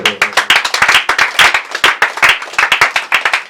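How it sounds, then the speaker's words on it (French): An audience at an anniversary celebration applauds in a brisk run of sharp, close hand claps, loud and continuous for a few seconds, with no speech over it. "Yangwana, je vous prie de vous asseoir tout en les acclamant parce que..."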